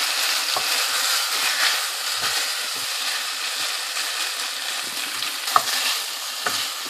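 Chicken karahi with onion and capsicum fries in a pan with a constant dense sizzle, while occasional soft scrapes and knocks of a spatula stir the pieces, close up with no voices.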